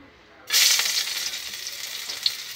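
Garlic hits hot oil in a pan with a sudden loud sizzle after a brief quiet moment, then crackles steadily and slowly eases off with faint stirring.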